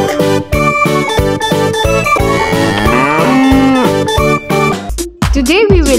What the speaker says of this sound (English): Cow. Cow gives us milk.